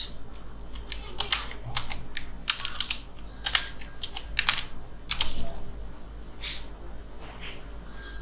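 Close computer keyboard typing while searching for elements in a Canva design, heard as irregular bursts of crisp key clicks with short pauses, no voices.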